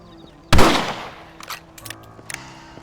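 A single loud rifle shot in the Red Dead Redemption video game cracks close by and decays, followed by a few fainter clicks and shuffling sounds.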